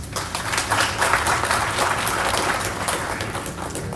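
Audience at an event in Nairobi applauding for Mr. Bassett Buyuka, a steady, dense roll of many hands clapping, loud and close, sustained from start to finish without talk over it.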